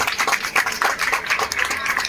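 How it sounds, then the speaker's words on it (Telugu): Clapping from an audience at a school event with a state minister: a quick, fairly close patter of claps that keeps going without a break throughout. "అందరూ గట్టి క్లాప్ కొట్టాలమ్మా ఒకసారి"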